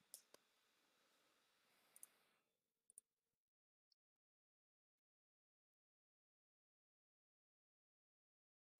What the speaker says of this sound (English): Just going to kind of click through this